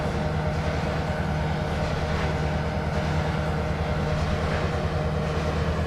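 Passenger train at a station in Trainz 2022 gives a steady, loud rumble with a low droning hum and faint rail noise, unchanging throughout.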